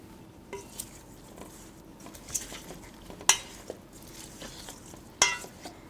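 A utensil stirs meatballs in teriyaki sauce with sesame seeds in a pan, giving quiet scraping and soft sizzling with a few sharp clinks of metal against the pan.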